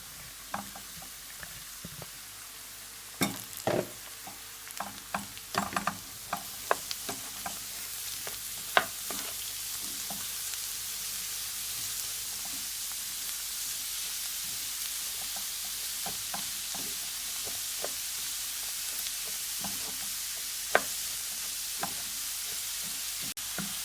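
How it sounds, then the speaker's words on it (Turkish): Sliced onions and cabbage sizzle steadily in a pan while a utensil scrapes and knocks against it now and then, stirring, with no one talking. "İçerisine ince ince kıydığımız lahanayı ilave edip lahanayı da karışalım, karıştıralım soğanla beraber"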